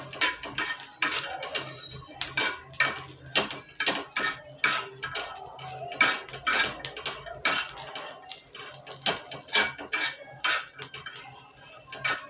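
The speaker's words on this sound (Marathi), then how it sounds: "अशा प्रकारे हलवत राहा त्याला।" A utensil stirs chicken curry ingredients in oil in a pan, giving a rapid series of close metallic scrapes and clinks in an uneven rhythm with no talking.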